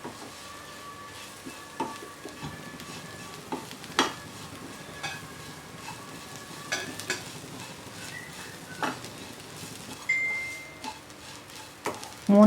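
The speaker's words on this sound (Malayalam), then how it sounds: "ഇലകൾ ചേർത്ത് കഴിഞ്ഞൊരു 3-4 മിനിറ്റ് നന്നായിട്ട് വഴറ്റി കൊടുക്കണം" Drumstick leaves sautéed in a pan give a faint, continuous sizzle broken by repeated sharp scrapes and taps of a utensil stirring against the pan.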